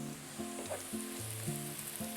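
Chillies sizzle in hot tarka oil for a dal, a steady close frying hiss with spatula scrapes and stirring clinks over a low tonal hum, no voices.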